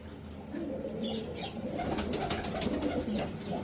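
Pigeons coo softly in clay breeding boxes built for mated pairs, with chirps and a few wing flutters, moderately close and steady throughout.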